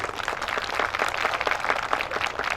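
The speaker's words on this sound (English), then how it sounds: "please give a big round of applause for Majority Leader Aaron Murphy, who's the leader of our Senate" Applause from an audience at a Hmong and Lao veterans commemoration, a dense, steady wash of many hands clapping, fairly loud and continuous with no voices over it.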